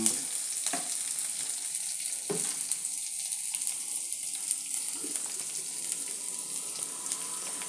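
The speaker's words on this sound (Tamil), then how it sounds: "இந்த வெங்காயம் நறுக்கி வச்சது, பச்சை மிளகா, கருவேப்பிலை, இஞ்சி, இது எல்லாத்தையுமே போட்டு நல்லா வதக்கிக்கணும்" Onion, green chili, curry leaves and ginger sauté in a pan for an uthappam batter, giving a steady soft sizzle with occasional stirring scrapes throughout, no talking.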